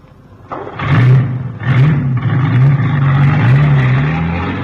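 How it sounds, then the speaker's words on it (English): A truck engine starts and revs loudly, with gear-shifting surges, before settling into a steady drone as it pulls away. "Hey, where's he going with the truck?"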